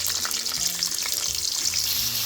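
Chopped carrots fry in hot oil in a kadai for vegetable fried rice, a dense close sizzle with stirring, short and unbroken, no voices.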